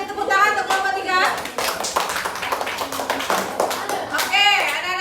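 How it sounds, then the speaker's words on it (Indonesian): Classroom of children applauding group 3, a burst of quick hand claps that swells and fades across the room, with a teacher's voice speaking over the start and end. "beri tepuk tangan untuk kelompok 3"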